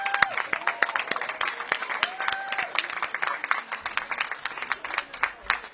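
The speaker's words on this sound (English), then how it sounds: "please join me in a round of applause" Outdoor crowd at a library ribbon-cutting applauds the committee members, scattered sharp claps with whoops and voices mixed in, fairly close and lively.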